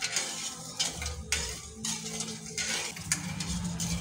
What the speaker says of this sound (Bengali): ভালো করে সব উপকরণ একসঙ্গে মিশিয়ে নেব।